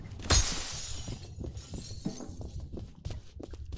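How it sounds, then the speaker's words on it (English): Glass shatters in the first-person shooter F.E.A.R.: one loud, bright crash near the start with debris tinkling away, followed by quieter footsteps and low game ambience. "Break the glass."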